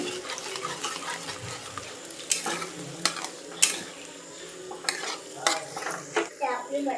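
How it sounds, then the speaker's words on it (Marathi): Beaten eggs for egg bhurji fry over full flame while a spoon stirs and scrapes the pan, a steady sizzle broken by repeated sharp metallic clinks and scraping strokes, close and fairly loud. "आपला गॅस हा फुल ठेवायचा आहे आणि हे सारखं मिक्स करीत चालायचं आहे"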